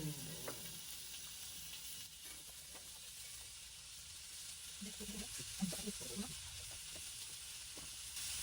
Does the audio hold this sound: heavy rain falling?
no